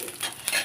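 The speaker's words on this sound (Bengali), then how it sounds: "দেখো তেল গরম হয়ে গেছে, এবারে 5 ফোড়ন দিলাম" Panch phoron (five-spice) seeds dropped into hot oil give a short, soft sizzle, a brief crackling hiss lasting under a second.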